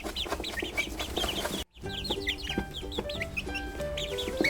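Chicks and chickens on a farm cluck and cheep in quick, repeated calls close by, with a brief break partway through before the chatter resumes.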